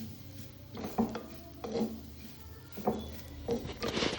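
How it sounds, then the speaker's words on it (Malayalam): Grated coconut being stirred and roasted in a pan for a Kerala-style prawn theeyal, with a spoon scraping and tapping the pan in soft, irregular strokes about once every second. "ഒരു കപ്പ് തേങ്ങ എടുത്തിട്ടുണ്ട്. തേങ്ങ നന്നായിട്ടൊന്ന് വറുത്തെടുക്കണേ."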